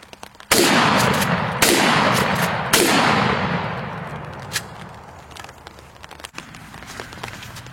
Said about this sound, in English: now we're going to hit him up with this Federal 3-inch mag,